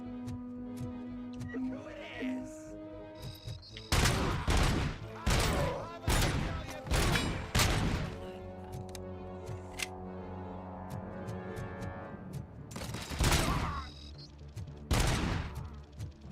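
Gunfire from Robocop: Rogue City lands as a series of sharp, loud single shots at uneven intervals, some in quick pairs, over a low game soundtrack.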